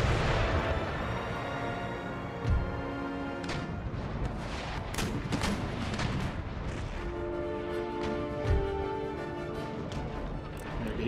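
Broadside cannon fire from sailing warships in the Empire Total War naval battle, a dense continuous rumble of booms and crashes with a few sharper thumps standing out over battle noise.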